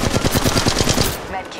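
Rapid automatic gunfire from the mobile battle-royale game Apex Legends Mobile, a loud burst of evenly spaced shots for over a second before it stops and fades into quieter game ambience.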